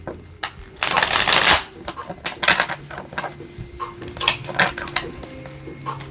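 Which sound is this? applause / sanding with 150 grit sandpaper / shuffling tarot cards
shuffling tarot cards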